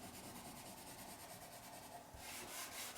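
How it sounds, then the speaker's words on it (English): A finger rubs pencil shading on paper while drawing a cartoon snowman, a soft, steady close-up scrubbing rasp of repeated strokes that grows slightly louder toward the end. "rub it with your finger"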